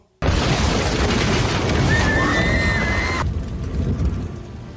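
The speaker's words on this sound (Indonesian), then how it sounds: "Pria itu kemudian bunuh diri dan meledakkan bom." A bomb detonates in an animated drama: a sudden, loud, close blast that swells into a long, roaring rumble lasting several seconds before easing slightly at the end.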